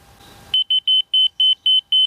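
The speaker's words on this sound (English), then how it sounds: "as it gets close to the laser, it'll start beeping" A laser receiver gives seven short, high-pitched electronic beeps in a steady, evenly spaced rhythm, loud and close, after a brief moment of faint background noise, while handrails are installed on a deck.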